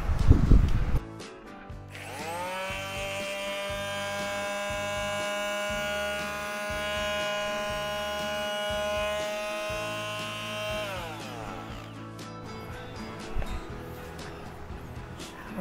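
A repaired electric palm sander is switched on for a test run, starting with a sharp rising whine and then buzzing steadily at a high pitch for about nine seconds before it winds down. A few faint bumps follow it.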